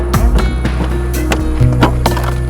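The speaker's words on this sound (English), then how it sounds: "We could hear it dragging through the rocks behind us." A car bumper torn loose drags and scrapes over rocks on an unforgiving road, a continuous rough rumble broken by repeated knocks and clattering thuds as it bounces along, loud and close.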